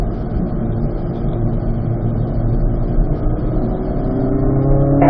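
A steady engine drone heard from inside a car during a driving lesson, rising slightly as the car accelerates out of a curve toward the end.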